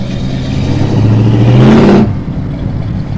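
A 1969 Dodge Coronet RT muscle car with a 4-speed transmission revs up, its engine note climbing steadily and loudly before cutting off abruptly, leaving only a low idle rumble.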